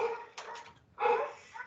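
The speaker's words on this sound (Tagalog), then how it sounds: "Napakaingay ng mga aso." Several dogs bark and yelp in short bursts, fairly loud and somewhat distant, with a brief pause between volleys.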